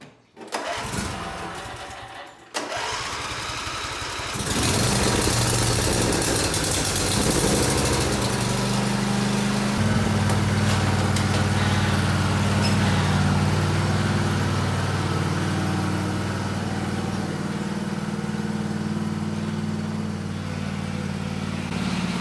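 A lawn mower engine starts with a couple of sputters, then settles into a loud, steady running drone close by, holding an even rumble for the rest of the stretch.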